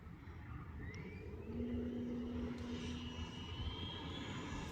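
An E-flite F-16 90mm RC jet taxis with a steady, fairly faint turbine whine over outdoor rumble, rising slightly partway through, with no voices.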